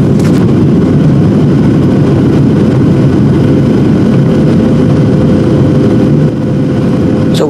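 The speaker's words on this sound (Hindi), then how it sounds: "तो थोड़ी देर बाद हमारी फ्लाइट लैंड होने वाली है" Loud, steady low engine roar of an airliner coming in to land on an India to USA international flight, a dense broadband rumble that continues unbroken and close throughout.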